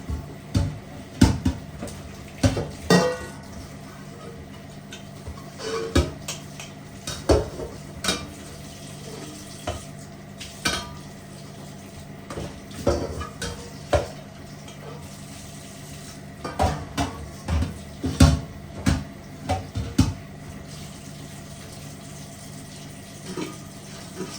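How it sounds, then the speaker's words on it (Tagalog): Plates, dishes and cutlery clatter and clink in a sink as they are washed in soapy water, giving irregular close knocks and scrapes over a low running background, with no one talking. "Hugas tayo ng plato."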